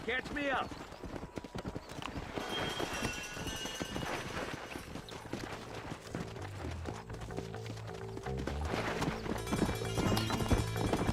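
A horse in the video game Red Dead Redemption gallops with steady clip-clop hoofbeats under game music and dialogue, continuous and fairly faint throughout.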